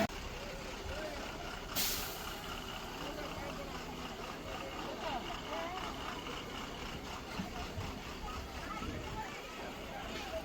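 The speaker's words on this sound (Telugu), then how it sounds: "టెంపుల్ విజిట్ చేయడానికి లోపల వరకు బస్సులు వస్తున్నాయి చూడండి, వెనకాల ఉన్నాయి కదా" Buses pull into a temple parking area on a Mysore trip, a steady diesel engine rumble with a brief hiss of air brakes, heard amid a crowd's background babble.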